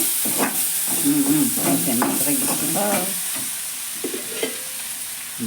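Broad beans stirred into a hot frying pan, a steady close sizzle with spatula scraping and stirring sounds throughout, fading slightly toward the end.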